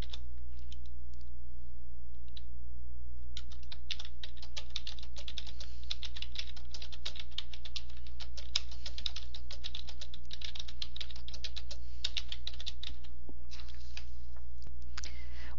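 Typing on a computer keyboard while working in WordPad on Windows XP, a long steady run of close clicky keystrokes with brief pauses, alone without talk.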